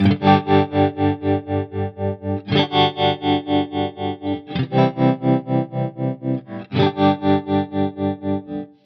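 Distorted electric guitar chords through a Line 6 Helix tremolo effect set to a sine wave, pulsing with a smooth, steady tremolo, the volume swelling and dipping rhythmically in even waves.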